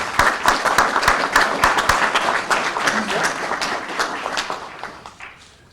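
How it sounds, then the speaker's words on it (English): Audience applause at a graduation ceremony, a dense crowd clapping steadily for several seconds before thinning and fading toward the end. "Let's give a round of applause to David Jennings."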